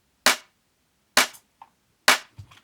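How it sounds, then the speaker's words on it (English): A wide, processed electronic clap sample from a music track strikes three times at a steady beat, each hit sharp and bright with a short tail and small trailing ghost hits, isolated against silence. "now you get this nice wide clap sound without any of those artifacts"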